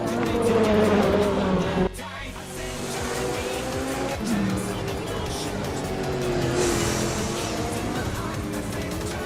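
Race cars roaring in the sim racing game Assetto Corsa, a sedan contest at Portimão or Valencia, engines howling with shifting pitch, a brief drop near two seconds, and faint tire squeal, loud and continuous.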